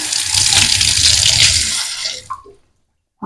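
Water gushes from a kitchen sink tap in a small home kitchen. It runs loud and steady for about two seconds, then cuts off, leaving a faint drip and silence.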